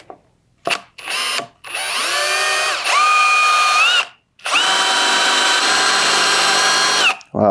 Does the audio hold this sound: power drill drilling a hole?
yes